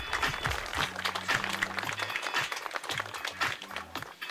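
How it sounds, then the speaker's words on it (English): A crowd at a long drive golf event gives a round of applause for a golfer from Australia, clapping steadily at moderate distance with a low musical or tonal background underneath. "Let's have a round of applause,"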